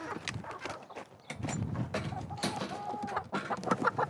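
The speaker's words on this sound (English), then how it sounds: "Chickens." Chickens on a farm cluck and squawk close by in a busy, noisy mix, with scuffling and clatter underneath and brief bird calls rising above it.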